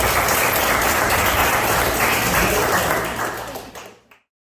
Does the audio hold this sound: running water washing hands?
no